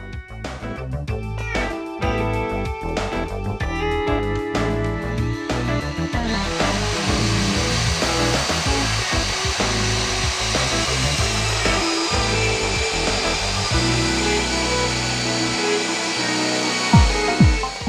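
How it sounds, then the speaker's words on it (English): Diamond core drill motor switched on and running, a steady loud whine and hum with shifting tones and some mechanical clatter, continuous throughout with no talk. "Operating the safety switch and switching on the drill motor."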